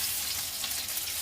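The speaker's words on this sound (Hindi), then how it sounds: "हमारे ये कबाब भी बहुत अच्छे तरीके से लौट पलट करते हुए फ्राई हो गए हैं" Mutton and chana dal shami kebabs frying in a pan give a continuous close crackling sizzle, steady and bright for the whole moment, with no voices.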